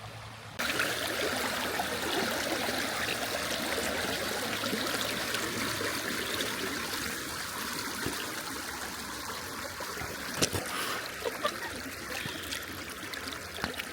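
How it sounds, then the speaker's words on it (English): A stream of moving water beside a lake rushes and trickles steadily throughout, fairly close and a little quiet, with a few faint bumps and handling noises and no voices. "we got some moving water here"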